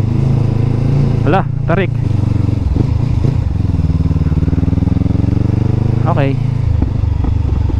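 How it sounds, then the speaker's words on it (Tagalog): An adventure motorcycle climbs a steep barangay road in Batangas, its engine droning loud and steady throughout while the rider talks over it. "Ito kagandahan ng adventure bike."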